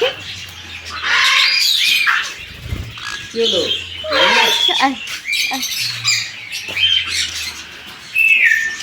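Parrots at a bird farm squawk and chirp in repeated shrill bursts close by, mixed with people talking.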